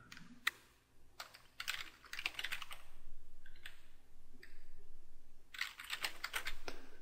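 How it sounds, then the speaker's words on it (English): Bursts of close keystrokes clatter on a computer keyboard, quick clustered taps separated by short pauses, crisp and fairly quiet in an otherwise still room. "So I've typed the letters and the words "replace me right now" together."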